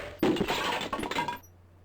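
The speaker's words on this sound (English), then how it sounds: "The magic arrow completely shatters the shield." A magic arrow shatters a shield in the King's Quest 6 adventure game, a loud, close crash with a bright glassy burst that rings for over a second and then cuts off into quiet.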